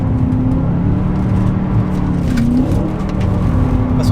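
BMW M3 E92 engine held at steady high revs through a drift, a continuous loud, close drone with slight pitch shifts as gears change, no voices.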